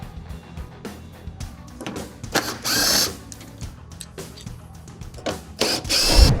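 A ratchet spins out 10mm bolts on a 2024 Mitsubishi Triton MV during a bullbar installation, giving bursts of fast clicking pawl ratcheting separated by short pauses and the clink of tools, close up with no talking.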